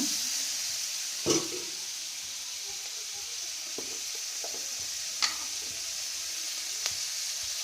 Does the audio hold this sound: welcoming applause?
no